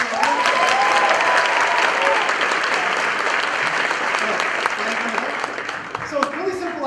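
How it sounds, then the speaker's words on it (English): A TEDx audience gives a sustained round of applause for a volunteer, dense clapping throughout with voices talking over it near the end. "Another round of applause for that."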